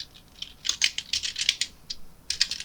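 Fingers tap a computer keyboard in quick, uneven bursts of crisp close clicks, with a short pause before a final flurry of keystrokes.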